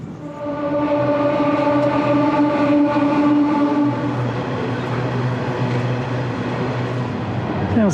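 A train rumbles past close by near an old rail bridge, its steady drone carrying tonal engine or wheel hum that shifts pitch partway through, loud and continuous throughout.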